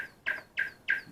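An EMS Synthi AKS synthesizer plays short chirping tones, about four quick repeated blips that sound like a bird call, fairly soft.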